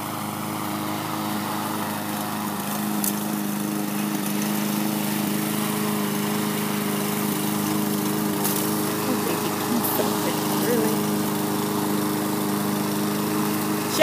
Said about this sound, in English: He's cutting the lawn.